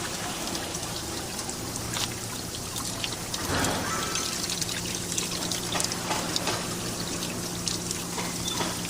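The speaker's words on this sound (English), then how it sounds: "It's like a cast iron waterfall." Water pours steadily down a cast iron roadside waterfall, a continuous splashing trickle heard close by and alone, with small dribbles and drips over the steady flow.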